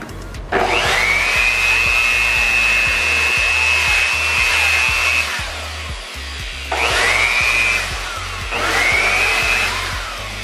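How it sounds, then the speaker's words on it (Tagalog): A handheld air blower cleans the cooling fan of a video card during repair, giving a loud continuous whoosh with a high whine that spins up. It runs steadily for about five seconds, then comes in two shorter bursts. "Make sure yung pag-blower ng pan, huwag nyo pong itututok na patagal."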